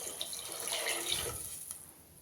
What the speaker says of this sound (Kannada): ನಾನು 3 ಲೋಟದಷ್ಟು ನೀರನ್ನು ಹಾಕಿದ್ದೀನಿ.